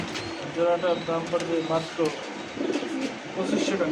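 Afsan grizzle pigeons on a farm coo in a series of soft, low, rhythmic calls near the listener, while someone talks over them.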